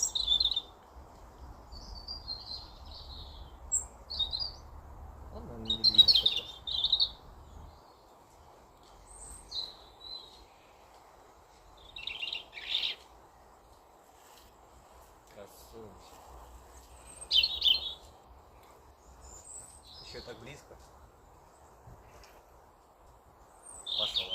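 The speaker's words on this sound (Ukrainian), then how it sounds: "як гарно пташечки співають." Birds chirp and sing in scattered short phrases over a quiet outdoor background in Ireland, with a few soft voices now and then.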